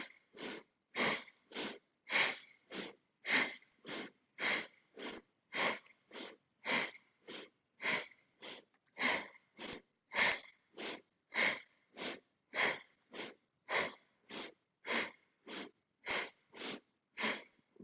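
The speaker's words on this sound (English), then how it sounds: "Nice, strong breathing." Strong, rhythmic breathing during a yoga exercise, with about thirty forceful nasal breaths pumped out at a steady quick pace, each a sharp puff, loud and close with no talking.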